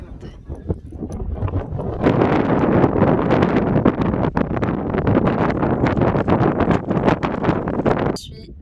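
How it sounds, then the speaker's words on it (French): Strong mountain wind buffets the microphone in loud, gusty roaring bursts that swell and ease over several seconds. "Il y a un peu beaucoup de vent quand même."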